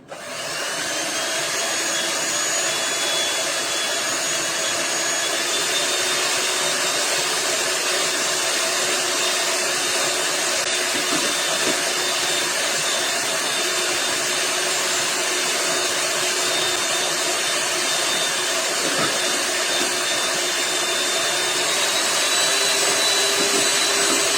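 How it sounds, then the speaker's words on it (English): Electric beater mixing wet cake batter for chocolate lava cupcakes, a loud continuous motor whine with a steady high-pitched hum, close and unbroken throughout, no voices. "So now I am just mixing it with the electric beater."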